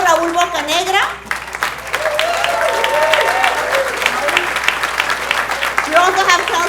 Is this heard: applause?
yes